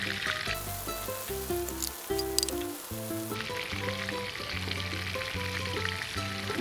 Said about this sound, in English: I'm frying this on medium.